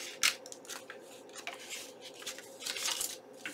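Scissors snip a few times while trimming the corner of a window hanger tag, short crisp cuts spread irregularly across a quiet room, close and fairly soft.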